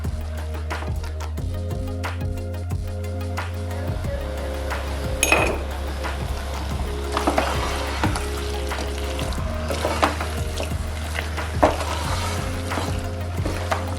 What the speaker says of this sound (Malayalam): നന്നായി ഇളക്കി എല്ലാ ഭാഗത്തും മസാല എത്തിയെന്ന് ഉറപ്പുവരുത്തുക